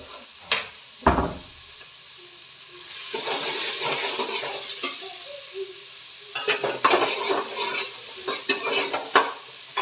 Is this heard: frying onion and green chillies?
yes